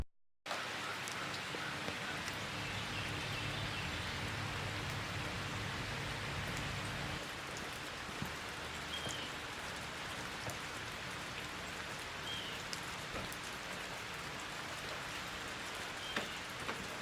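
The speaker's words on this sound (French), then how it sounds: "comme vous avez dû le voir, il pleut" Steady rain falls outdoors on a road trip stop in the USA, a continuous broadband hiss of drops on surfaces with occasional louder individual drips, constant in level throughout and with no voices.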